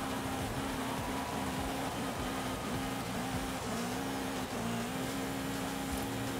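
A 1957 BMW Isetta fitted with rally tires accelerates hard on a drag strip, its small engine droning loudly and continuously, rising and wavering in pitch over steady wind and road roar, with no talking.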